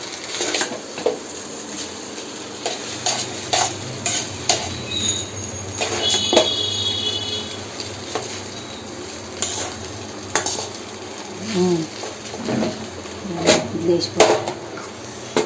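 Noodles and vegetables are stirred in a frying pan, with light sizzling, scraping and occasional clinks of a utensil against the pan, close and moderate, while someone talks over it.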